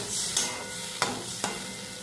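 Cherry chutney cooking in a pan after water is poured in, with a steady sizzling hiss and a few sharp scraping taps as it is stirred.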